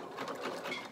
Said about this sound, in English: So I'm working on a Husqvarna Viking. It's probably the best of my machines. And I'm just going to sew along this edge